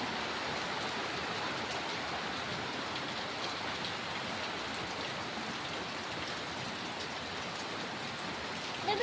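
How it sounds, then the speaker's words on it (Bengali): Heavy rain pours down steadily outside a home window, a dense, even hiss of drops on surfaces that stays loud and unbroken throughout, with no voices. "এই যে দেখুন কতটা বৃষ্টি হচ্ছে, প্রচুর বৃষ্টি হচ্ছে"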